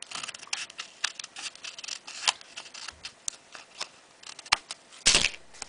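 Scissors snip through the bottom of a 3D paper home decor piece, a run of quiet close clicks and crisp cuts with scattered louder snaps near the end.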